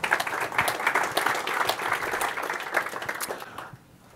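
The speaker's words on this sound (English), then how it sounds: "Round of applause." Audience applause at a corporate and startup panel event as a panelist is introduced, steady clapping throughout before dropping away abruptly near the end.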